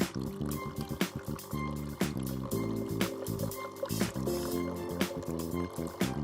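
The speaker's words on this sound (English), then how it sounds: "Move the lever to the hot position. Mini-Me will start rinsing." A NESCAFÉ Dolce Gusto Mini Me coffee machine runs its rinse cycle, water flowing and trickling into a container under a steady machine hum, with regular small clicks and drips close by.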